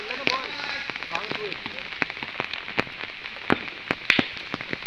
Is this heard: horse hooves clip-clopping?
no